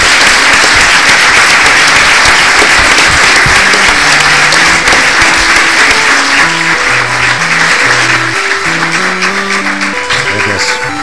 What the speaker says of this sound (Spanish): pido un fuerte aplauso para Alfonso